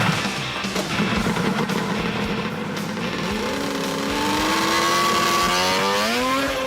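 A 180-horsepower amphibious car drives on water, its engine droning loud and steady with rising revs toward the end, heard alone without talk.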